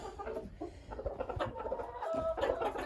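A pair of farmyard hens cluck softly and intermittently, close by, over a low background murmur.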